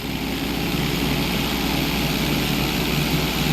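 Steady propeller-plane engine drone from GTA San Andreas, held at a constant loud level while the aircraft rolls into a knife-edge during a pilot license test, with no speech over it.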